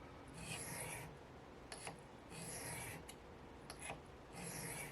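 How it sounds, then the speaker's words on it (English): A Spyderco Para3 LW knife blade is stropped during a tune-up. Four or five long, rasping strokes alternate with short clicks and pauses in a steady back-and-forth rhythm, close and fairly quiet. "So then from there we'll strop."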